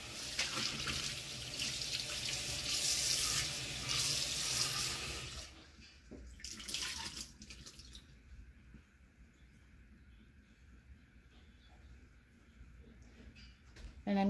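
Water runs steadily from a tap for several seconds, splashing over a vintage wooden salad bowl, then shuts off, leaving faint drips and quiet handling sounds.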